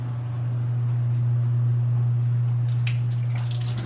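Ground food-waste slurry is poured down a dish-washing sink, giving a continuous watery gurgle and splatter over a steady low hum, with brief sharper splashes near the end.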